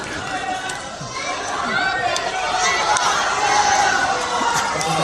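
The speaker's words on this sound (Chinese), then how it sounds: "各位别跟着起哄叫好了" A theatre audience at a live traditional crosstalk show by two performers in Tianjin cheers and shouts approval. Many overlapping voices swell and grow louder toward the end, with a performer's voice talking over the crowd.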